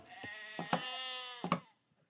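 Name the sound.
sheep bleating in a video game (Age of Empires map)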